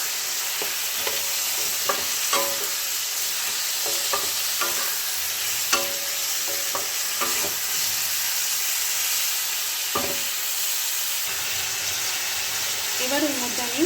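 Chopped tomato sizzles and spits in a hot pan while a spoon stirs and scrapes against the metal at intervals, with a steady hiss of frying underneath throughout.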